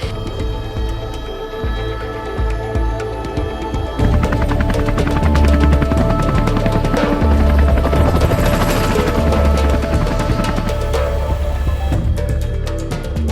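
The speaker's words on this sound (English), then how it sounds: "It was really incredible that we were able to get helicopters to get there." A helicopter flies near Everest Base Camp in Nepal, a loud, steady rotor and engine roar with dense rapid chopping that swells noticeably after the first few seconds and holds strong to the end.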